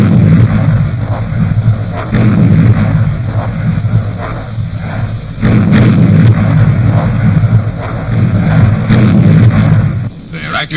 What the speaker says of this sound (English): Australian heavy artillery began to bombard the Japanese anti-aircraft defenses on Buka